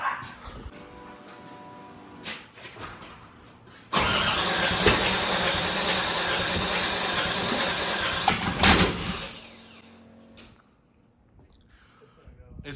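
An LS V8 swapped into a Nissan D21 Hardbody truck cranks and then catches, running loud and rough for about five seconds before dying away. Voices are heard in the workshop around it.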